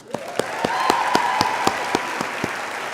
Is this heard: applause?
yes